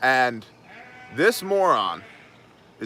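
A ewe on a farm bleats for her lamb across a fence, several loud wavering calls close by, interleaved with someone talking.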